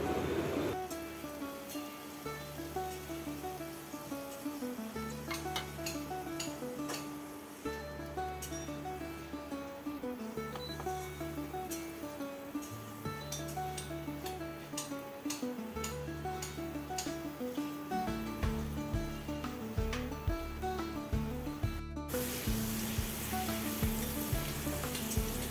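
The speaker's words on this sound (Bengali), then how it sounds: "পনিরগুলো একটু হালকা ভেজে তুলে নেব, খুব বেশি ভাজবো না" Paneer pieces fry lightly in ghee and butter, a soft continuous sizzle with crackles and occasional stirring taps, a low steady hum underneath and no talking.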